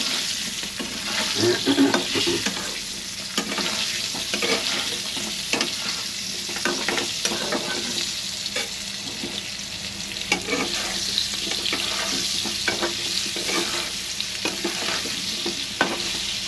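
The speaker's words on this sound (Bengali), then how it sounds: "আলুগুলোকেও সুন্দরভাবে নাড়াচাড়া করে হলুদ নুনটা মিশিয়ে দেবো" Potatoes with turmeric and salt fry in oil over low heat and are stirred repeatedly, giving a continuous sizzle with frequent scraping and clattering of the spoon against the pan.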